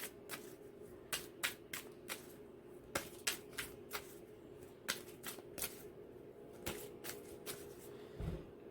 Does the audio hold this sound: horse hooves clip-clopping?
no